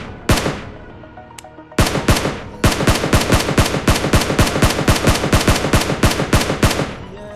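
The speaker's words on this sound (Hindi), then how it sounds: "पहले फायर में तो वो बच जाता है, फिर मैं 3x लगाकर उस पर फायर करता हूँ।" Rapid automatic gunfire in a video game aimed at a truck: a couple of isolated loud shots, a pause, then a long steady burst of closely spaced cracks, loud and close, with no talking.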